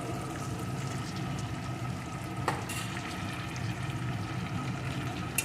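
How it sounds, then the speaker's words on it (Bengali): Fried fish head being stirred and sautéed with spices in a pan, giving a steady sizzle and soft scraping, with one brief sharp clatter partway through. "মশলার সাথে কষিয়ে নেব আর মাথাটা কিন্তু এইভাবে একটু ভেঙে ভেঙে দেবো"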